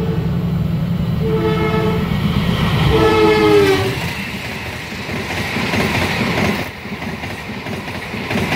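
A Senja Utama passenger train passes near a station in Indonesia, loud and continuous with a horn sounding in steady tones and heavy rumbling wheel noise that eases off toward the end.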